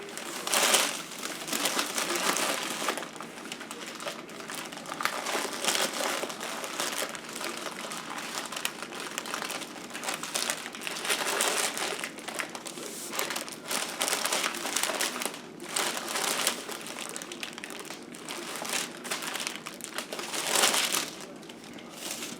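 Wax paper crinkles and crumples steadily while sugar cookie dough is rolled up in it, close and continuous with rustling bursts throughout.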